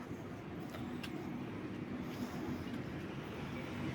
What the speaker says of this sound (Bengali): তার আগে একটা ট্রেন আসবে